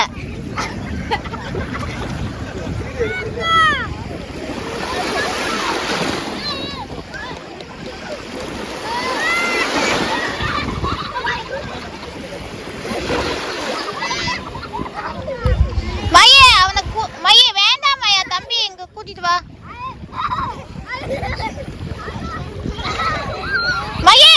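People swim at a beach in Canada, sending up irregular splashes and sloshing water under near-constant chatter and children's voices, with busy, crowded shoreline noise throughout.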